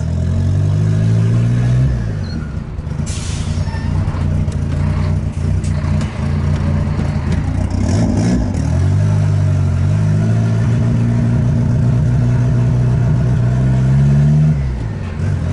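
A Volkswagen Gol engine with turbo boost on revs loudly and steadily, rising and falling over several pulls, with a brief sharp burst near the start and engine drone throughout.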